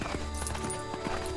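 A cow's hooves clop at a walking pace in LEGO Jurassic World, a few soft, evenly spaced steps over a constant bed of game background sound.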